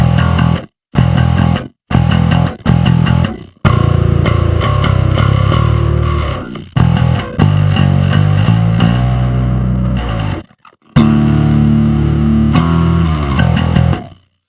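Electric bass played with a metal tone, clean without overdrive, loud sustained low notes and chords in phrases separated by short silences, close and dry.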